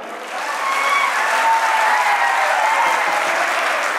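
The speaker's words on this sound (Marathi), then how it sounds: "आदरणीय मनोज दादा जरांगे पाटील जोरदार टाळी." A large crowd at a Manoj Jarange Patil political rally in Nanded district, Maharashtra, breaks into loud, sustained applause that swells quickly and holds steady.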